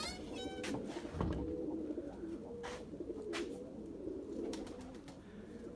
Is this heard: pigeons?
yes